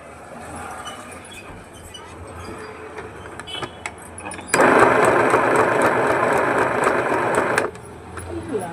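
A sewing machine stitches fabric with white thread, running in one steady, loud whirring burst of about three seconds after quieter handling clicks and taps.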